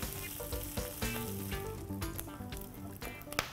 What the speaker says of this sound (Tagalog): ikikrispy ko lang po yung longganisa hanggang matanggal po lahat yung taba po